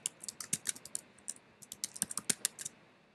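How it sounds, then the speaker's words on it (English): Typing on a computer keyboard, close and alone: quick bursts of crisp key clicks in an uneven rhythm with a brief pause partway through. "Then you can type in what they wrote here."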